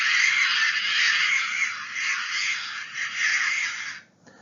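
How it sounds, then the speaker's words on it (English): A tern calls in a long harsh, rasping cry that fades out at the end, loud and close, with no other sounds. "Terns are a group of birds that constitute a number of different species that are difficult to identify and may have a sound like this."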